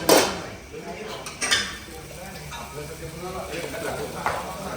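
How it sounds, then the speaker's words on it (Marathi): Mutton fry with gravy and plenty of cashews being stirred in a pan at a home-style non-veg eatery in Kabnur, Ichalkaranji; metal utensil scrapes and clinks against the pan at a steady pace amid busy kitchen background noise. "तर मटन फ्राय करायची प्रोसिजर चालू आहे ज्यामध्ये थोडीशी सम प्रमाणात ग्रेव्ही आणि काजू असं भरपूर घातलेलं आहे"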